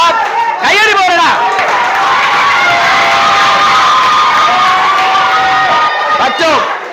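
A crowd of students at a career guidance class cheering, shouting and clapping, a loud dense roar of voices and applause running throughout, with shrill individual yells rising above it.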